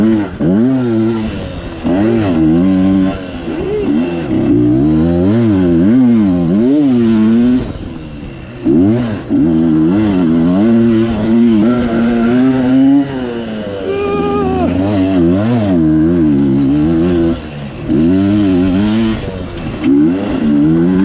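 A Kayo KT 250 dirt bike rides hard along a woodland trail, its engine revving up and down continuously through repeated throttle bursts and gear changes, loud and close throughout.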